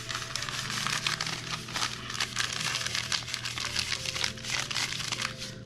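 Sheets of newspaper folded and crinkled by hand while preparing spray paint art, a steady close rustling and crackling that runs the whole time with no talking.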